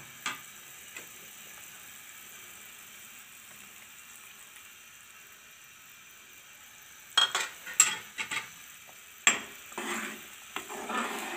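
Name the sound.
stirring chicken vegetable soup after adding cornflour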